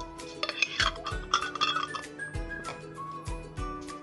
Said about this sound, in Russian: Банки залили и закрываем герметично крышкой.